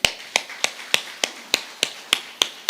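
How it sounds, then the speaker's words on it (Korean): A church congregation claps in unison, about ten sharp, evenly paced claps ringing with slight reverb in a hall and fading quickly after each one. "박수하겠습니다."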